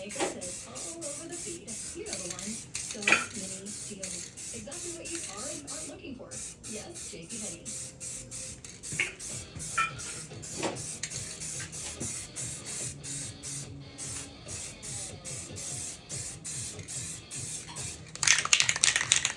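Short hissing bursts of an aerosol spray paint can coating a Jeep Wrangler oil pan repeat through the clip, mixed with the can's mixing ball rattling and handling noises, ending in a louder sustained spray.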